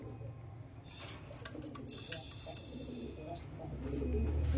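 Pigeons coo softly at a pigeon market selling Shahranpuri, racer, Giribaz and Lahori breeds, their calls mixed into steady crowd murmur and background noise that swells toward the end.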